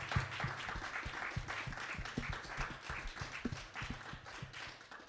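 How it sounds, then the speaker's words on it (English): Applause from a live business talk audience, a steady wash of many hands clapping at moderate volume with a few closer, sharper claps standing out. "Ladies and gentlemen, give them a round of applause."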